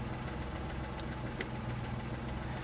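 A 1993 Subaru Justy's three-cylinder engine idles steadily with a low, even hum, quiet and constant, broken only by two brief high clicks.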